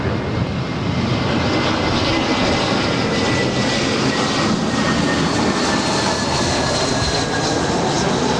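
Airliner jet engines rumble continuously during taxiing at Los Angeles airport, a loud, broad roar with a faint rising whine running through it, steady for the whole stretch with no talk.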